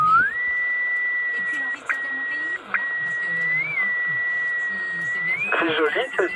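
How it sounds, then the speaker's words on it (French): A melodic whistled tune, clear and sustained, comes through a vintage Citizen Band (CB) radio receiver with a steady hiss underneath, briefly cut by short dropouts, before a burst of static and a voice break in near the end. "C'est joli ce sifflement."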